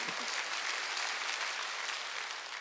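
A Korean church congregation at a Wednesday worship service claps together in a steady, fairly soft wash of applause that continues without a break.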